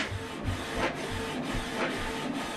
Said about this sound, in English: And this document now is going to copy color.